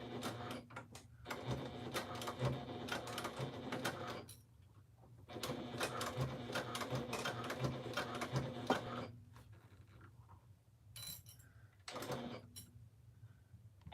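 A sewing machine stitches binding onto a quilted piece in two long steady runs of rapid mechanical chatter, separated by a brief pause and followed by shorter stop-start bursts, fairly quiet overall.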